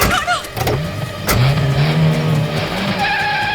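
A car starts up and pulls away in a hurry in a crime drama scene, with a short tire squeal and rising engine revs, close and loud, and faint voices behind it.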